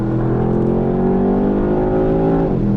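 Engine of a 2021 Porsche Panamera Turbo S droning loudly while the car slows from about 100 km/h, its pitch falling steadily, then a sharp step as a downshift drops the tone, heard from inside with no talk.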